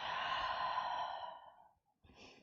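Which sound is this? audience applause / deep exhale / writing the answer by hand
deep exhale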